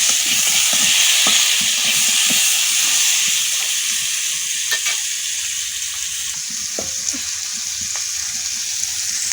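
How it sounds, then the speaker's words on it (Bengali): Potatoes and pona fish fry steadily in a hot pan, a dense continuous sizzle with occasional clicks of stirring, fairly close and loud, no talking. "ভালোভাবে ভেজে নেব, তারপর একটু জল অ্যাড করব।"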